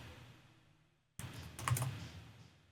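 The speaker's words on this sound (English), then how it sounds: "I'm testing my keyboard shortcut" Computer keyboard keystrokes from shortcut presses while working in FL Studio 20, a short cluster of near, moderately quiet clicks after a brief silence.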